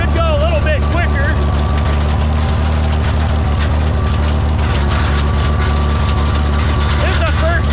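A Farmall 460 tractor drones loud and steady in fourth gear while tedding hay across a field, its low engine rumble unbroken throughout, with a voice heard briefly near the start and end.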